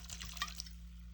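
A quiet splash of liquid poured into a pan while making Tuscan chicken, with soft wet trickling and a few bright drips over a low steady hum, faint and brief.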